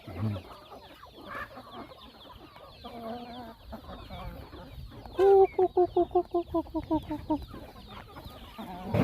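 Several jungle fowl cluck and murmur nearby, then one bird lets out a rapid run of loud, rhythmic clucks that gradually fade.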